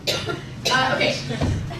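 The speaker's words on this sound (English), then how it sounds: "I'm just gonna cough a lot." During a council meeting, a person coughs three times in short, harsh bursts close to the microphone, with a quieter bit of room sound between the coughs.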